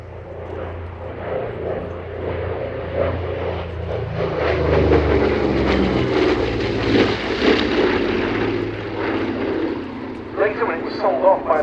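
A Douglas A-26C Invader, a twin piston-engine propeller bomber, runs its engines at the Duxford Battle of Britain airshow, a steady droning roar that swells louder as it passes and then eases slightly.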